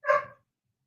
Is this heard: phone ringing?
no